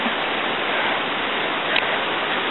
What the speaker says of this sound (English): Standing at the top of Nevada Falls.